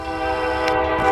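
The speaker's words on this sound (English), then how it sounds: "Got a train coming." A Norfolk Southern northbound mixed freight train in Marion, Ohio sounds its horn, a loud sustained chord blaring close by over the low rumble of the train.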